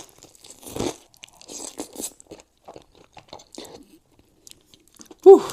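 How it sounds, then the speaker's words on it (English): Crunchy fried chicken served with spicy Buldak noodles is bitten and chewed up close, giving soft, uneven crunches and mouth sounds spread across a few seconds, ending in a louder sharp bite. "Let's do a regular bite with just the chicken."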